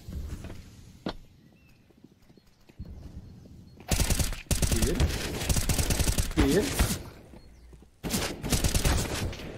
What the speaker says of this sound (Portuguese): Nossa, o Fallen errou o tiro.